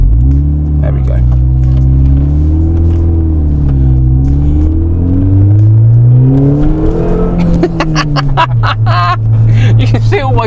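A Mini Cooper S engine with a supercharger revs up and down, its loud, close rumble rising and falling in pitch, with a whining tone climbing through each rev and voices heard over it.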